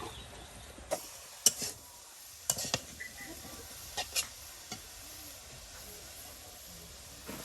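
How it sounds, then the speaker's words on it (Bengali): Drumstick (sajna) leaves stir-fried in oil in a village Bangladeshi kitchen, with a faint steady sizzle and scattered sharp clinks and scrapes of stirring, quiet and close with no talk. "ঝরঝরা করে এবার তেল দিয়ে এটা বাগার দেওয়া হবে"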